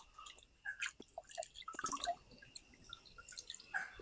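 Freshly washed meat set to drain, giving a soft scatter of close, irregular wet drips and small squishy splats with no voices.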